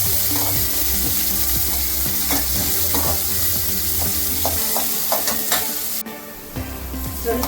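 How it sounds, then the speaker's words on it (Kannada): Onions fry in a pan for masala upma, a steady close sizzle broken by frequent scraping and clinking stirs of a spoon against the pan, the hiss dropping briefly near the end. "ಈರುಳ್ಳಿ, ಹುಳಿ ಹಾಕಿ ಕೆಂಪಗಾಗುವವರೆಗೂ ಹುರಿಯಬೇಕು."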